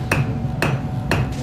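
Three sharp, evenly spaced hammer blows ring out on hot metal over an anvil at a blacksmith's forge, each strike bright and metallic with a short ring, repeating about every half second at close range.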